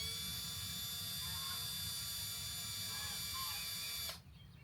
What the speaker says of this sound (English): How about you leave that screwdriver, that drill on top of the screw and not in the top of my hand?